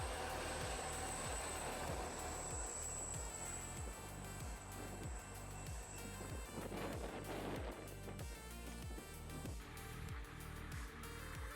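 A steam locomotive rolls through with a loud, steady, rhythmic chuffing that runs without a break and has no talk over it.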